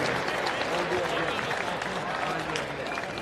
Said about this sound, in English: a round of applause for Kaeo, Meyer.